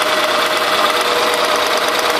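An engine cranks steadily and loudly for about two seconds with its spark plug pulled out for a spark test with a light tester, a dense continuous churning with no talk.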